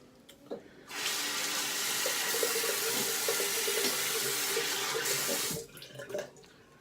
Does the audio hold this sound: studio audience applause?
no